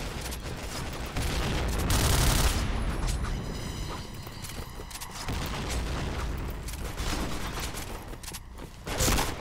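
Loud, sustained bursts of gunfire and booming impacts from a first-person shooter video game, dense and near, with brief lulls between volleys and no talking.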